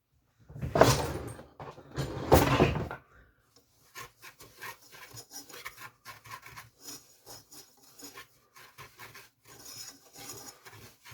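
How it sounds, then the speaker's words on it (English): Dry pantry ingredients and a pinch of salt get whisked in a bowl: two louder scraping bursts open, then a quieter run of quick, light rustling strokes. "I'm going to whisk this together."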